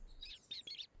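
A newly hatched baby bird chirps in three thin, high, quick tweets within about a second, faint and close, with no voices.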